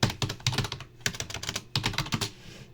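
Rapid keystrokes on a computer keyboard as code is typed, coming in quick bursts of clicky taps with brief pauses between runs, close and clear with no talking.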